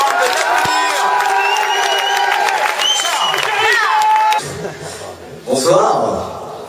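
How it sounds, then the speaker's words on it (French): Audience at a talent-show evening applauding and cheering for the performer, a dense crowd of clapping and whoops with voices shouting, then fading into a brief lull before a smaller burst. "Je vous demande de l'applaudir."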